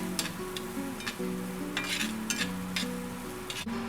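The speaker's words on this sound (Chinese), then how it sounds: "将姜末、蒜末和朝天椒倒进油锅中给它炒香" Steady crackling sizzle of minced ginger, garlic and chilies frying in oil, with intermittent scraping stirs and light clinks from a utensil.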